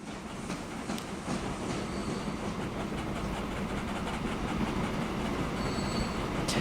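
Trains run in the Transport Fever 2 railway game on a busy UK mainline section, a steady continuous rumble of rolling wagons with faint wheel squeal, heard alone without talk.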